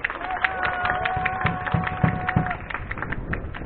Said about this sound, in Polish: Brawa duże dla pana profesora